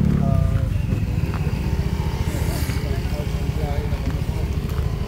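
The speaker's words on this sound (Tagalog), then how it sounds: "ang daming motor." Many motorcycles, some with chains, ride along an icy road in Taichung, their engines droning steadily and loudly close by, with a dense rumbling hum throughout and a voice speaking over the traffic.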